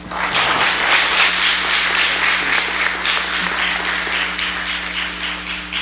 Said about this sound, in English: And a round of applause for our moderator.